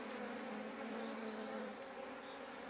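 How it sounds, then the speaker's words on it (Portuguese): Honey bees buzz steadily at the hive late in the day, a dense, continuous hum from many wings, even and unbroken, faint but filling the background with no voices. "Criação de abelhas."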